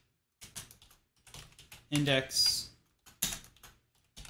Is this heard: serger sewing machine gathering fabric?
no